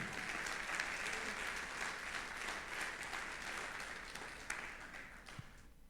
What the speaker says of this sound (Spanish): Dale un aplauso al Señor por esto.